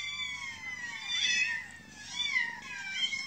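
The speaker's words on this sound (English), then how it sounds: "It's a whole bunch of kitties." Several kittens meow in repeated high, drawn-out cries, fairly quiet and close, with overlapping calls rising and falling.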